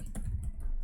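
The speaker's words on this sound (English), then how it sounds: "It helps if I type right." A few quick keystrokes on a computer keyboard, soft close clicks in a brief burst with no talking.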